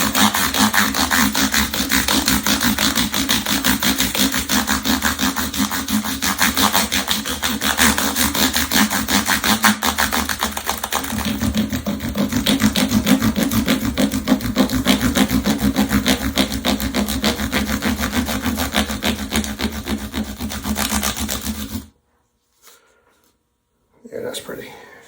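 Guitar frets being buffed, a rapid rhythmic back-and-forth rubbing close to the microphone that runs steadily for about twenty seconds before stopping abruptly, followed by near silence and a brief faint sound.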